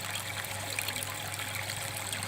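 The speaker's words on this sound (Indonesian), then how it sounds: "Sementara untuk sekarang kita coba full dulu, air mengalir ke sini." Water trickles steadily down a spiral worm-farming rack, a continuous close, soft splashing dribble under a low steady hum.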